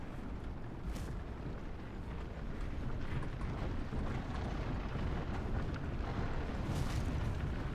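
Catapults fire and their shots hit during a siege battle in Medieval 2 Total War, with a dense, rumbling wash of battle noise, a few sharper impacts, and a constant heavy low roar, without voices.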